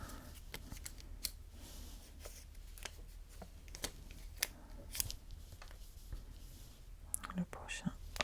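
Scissors snip a ribbon at an angle on each side while making a pop-up birthday card, giving several sharp, close cuts amid soft rustling and quiet, whispery voice sounds.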